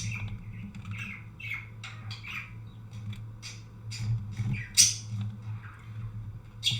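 A lone bird in the online game Entropia Universe squawks and chirps repeatedly in short bursts over a steady low background hum, fairly close and moderately loud.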